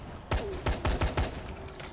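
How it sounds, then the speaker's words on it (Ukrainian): Rapid bursts of gunfire among zombies in the video game Dying Light, five or six sharp shots in quick succession over a low background hum. "Як то він так стріляє серед зомбі?"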